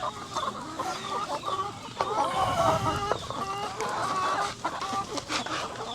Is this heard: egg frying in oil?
no